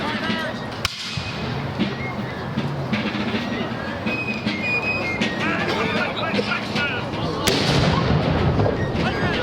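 Smoothbore flintlock muskets fire at a War of 1812 battle re-enactment between British and American lines, with sharp cracks at the start and near the end over steady crowd and field noise while someone narrates.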